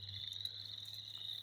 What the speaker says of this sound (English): Frogs are assholes.